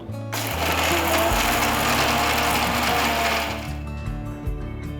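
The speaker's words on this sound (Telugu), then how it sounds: "నీళ్ళు ఏం పోయకుండా ఫస్ట్ వీటిని గ్రైండ్ చేసుకోవాలి" A mixer grinder jar grinds roasted dry red chillies without water for Andhra-style ginger chutney, a loud close motor whir with rattling and crunching that drops in pitch near the end.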